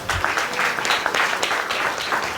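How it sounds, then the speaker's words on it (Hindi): A church congregation claps steadily in thanks during a sermon, a dense, continuous patter of many hands filling the space without a break for the whole stretch. "तालियां बजा के प्रभु का धन्यवाद"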